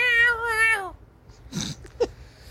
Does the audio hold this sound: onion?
no